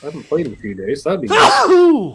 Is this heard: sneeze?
yes